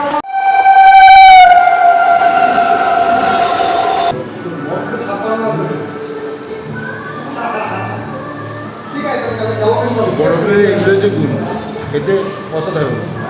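The horn of the Balurghat Express from Kolkata blares in a long, loud, sustained blast, then the rumble and clatter of the departing train carries on with a voice talking over it.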